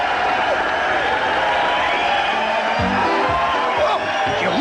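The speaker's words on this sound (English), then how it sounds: "Oh, we never had such a crowd." Cartoon crowd cheering and applauding at a show, a steady loud roar of clapping and whoops filling the whole stretch, with a few low shouts near the end.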